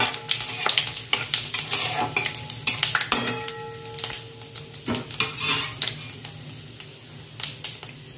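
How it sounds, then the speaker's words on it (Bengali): Panch phoron seeds and two dried red chillies crackle in hot oil, with dense spattering pops and sizzle and frequent metal spoon clinks and scrapes against the pan, close and lively, with no voices. "ফোড়নটা একটু ভেজে নেব।"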